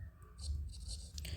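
Chalk or marker scratches across a classroom board in short bursts of quiet strokes, faint and close, with low room noise underneath.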